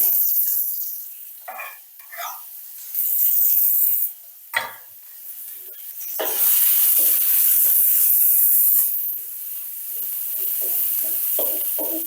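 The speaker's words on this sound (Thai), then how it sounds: "ใส่น้ำมันพืชลงไป นะคะ แล้วก็ตามด้วย หอมหัวใหญ่ สับนะคะ ผัดให้หอม" Chopped onion frying in vegetable oil in a large wok, with bursts of sizzling and stirring scrapes that come and go over about twelve seconds, close and fairly loud.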